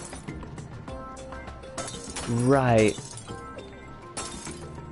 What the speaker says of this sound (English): why is this box causing the breaking glass sound when it's clearly made out of felt?